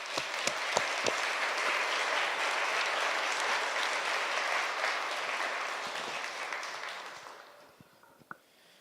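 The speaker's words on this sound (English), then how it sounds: "Please join me in another round of strong applause so we can recognize you and your public service" Sustained, strong applause from a ceremony audience honoring fire department members, a dense wash of clapping that holds steady and then tapers off, ending with a few scattered claps.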